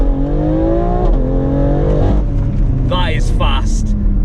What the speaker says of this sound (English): Foot hard on the brake, throttle down.